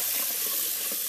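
Short grain brown rice is rinsed in a pot under cool running tap water, giving a steady, close hiss of flowing water with soft sloshing beneath.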